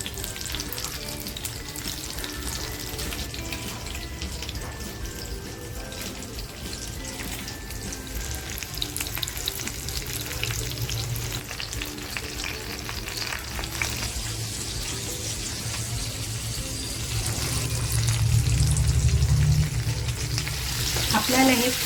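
Small fish, including tarli, shallow-frying in oil in a pan: a steady, dense crackling sizzle throughout, close and continuous, growing slightly louder and fuller toward the end.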